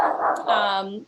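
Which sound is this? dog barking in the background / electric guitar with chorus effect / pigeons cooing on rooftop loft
dog barking in the background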